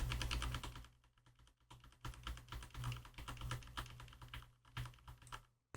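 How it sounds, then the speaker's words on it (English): Computer keyboard keys click in a quick, irregular run of typing, close and fairly quiet, with no talk and slight pauses between bursts. "If I press a key, you'll hear that clicking"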